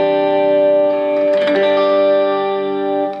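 Electric guitar played through a Little Lanilei 1/4 watt tube amp, sustained chords ringing with a lush chorus-like shimmer and reverb and a brief strummed flourish in the middle, heard alone.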